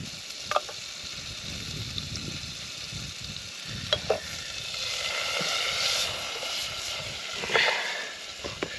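Garlic sizzles in melted butter in a pan on a low stove, a steady close frying hiss with a few clicks and stirring knocks along the way.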